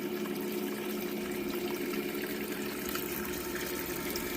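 Steady running water flowing over a homemade Miller sluice mat table used for gold recovery, a constant close rushing wash with no voices.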